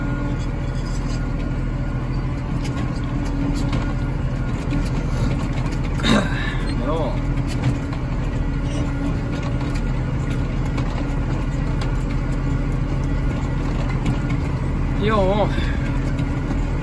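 The 8.3-litre Cummins diesel in a Case IH Magnum tractor drones steadily and loudly up close throughout, with a voice briefly speaking over it a couple of times.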